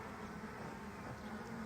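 A dense, low hum of many buzzing honey bees drones steadily close by, a soft continuous swarm sound with no other noise.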